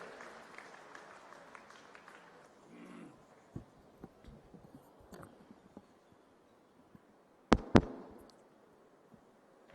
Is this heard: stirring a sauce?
no